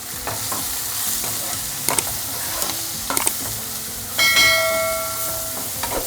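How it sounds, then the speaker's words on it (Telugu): Garam masala, coriander powder and turmeric fry in oil with a close, steady sizzle, a few sharp spatula scrapes against the pan, and a short ringing metallic tone near the end. "ఈ మసాలాలంతా పచ్చివాసన పోయే వరకు ఇలా కొద్దిసేపు ఆయిల్లో ఫ్రై చేసుకోవాలి"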